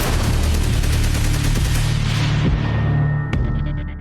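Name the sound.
AK-47 gunfire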